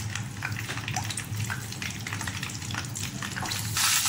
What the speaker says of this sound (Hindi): मैंने कढ़ाई में ऑयल लिया है थोड़ा सा जो कि गर्म हो गया है। अब मैं इसको इसमें फ्राई कर लूँगी ऑयल में।